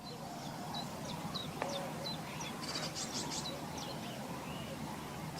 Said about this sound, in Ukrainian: Чуєте голоси птахів?